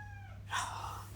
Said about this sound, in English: my other cat now wants to get out.